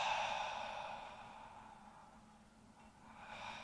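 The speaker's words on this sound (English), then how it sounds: "Inflate your lungs all the way up and exhale." Deep breath exhaled at the end of a HIIT workout class, one long breathy sigh that fades out over a few seconds, close and soft, followed by a faint start of another breath.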